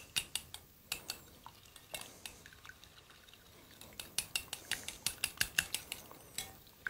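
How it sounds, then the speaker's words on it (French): Eggs for a walnut cake are beaten by hand with a utensil against a bowl, a quick run of sharp clinking taps in irregular bursts, close and fairly quiet, with no talk. "Alors, les œufs, on les bat en omelette."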